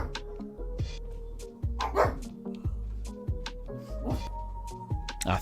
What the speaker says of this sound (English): you got to let a dog bark